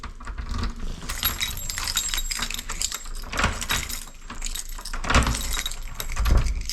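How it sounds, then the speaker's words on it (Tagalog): Keys jangle and rattle continuously at an apartment door as it is unlocked, close and busy with metallic clinks, ending in a few heavier knocks. "Uh, bubukas lang tayo ng pinto. Kunin ko lang yung susi."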